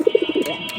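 Giribaj high-flying pigeons coo at a busy pigeon market in Bangladesh, a quick run of soft, throaty pulses heard close and brief.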